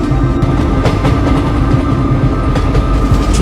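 An animated train running at full speed, heard as a loud, steady rumble with continuous rail clatter and rhythmic clickety-clack of wheels over the track, with no voices.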